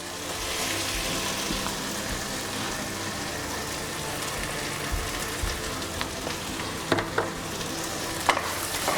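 Chicken coated in masala is stirred with salt in a pan, giving a steady dense sizzle with occasional spoon clicks and scrapes toward the end, moderately loud and close.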